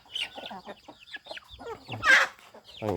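Several yellow chickens with white tails, including hens, cluck and chatter close by in short, uneven bursts, with one louder squawk near the end.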